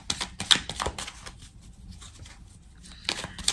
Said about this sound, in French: Allez, on va recouvrir certaines cartes.